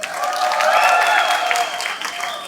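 Audience applause at a Malayalam movie pre-release event, a steady wash of clapping from a crowd that swells and holds for a couple of seconds, then thins slightly, loud and close without speech over it.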